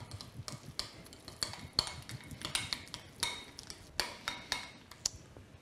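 A utensil clinks repeatedly against a bowl while a cold salmon sauce seasoned with pepper is mixed, a series of sharp, close taps at an uneven rhythm with no talking.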